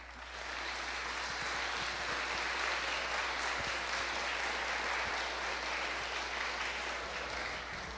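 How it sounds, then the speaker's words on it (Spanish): Sustained audience applause at an evening startup and venture fund talk, a steady dense wash of clapping that holds at an even, full level for the whole stretch with no voices over it. "por favor, un aplauso para Amadeo."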